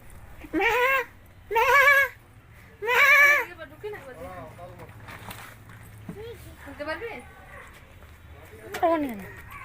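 A goat bleats three times in quick succession, loud and close, followed by quieter talking and shuffling sounds.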